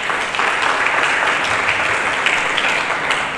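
A church congregation claps together in loud, continuous applause, a thick wash of many hands that stays even from start to finish.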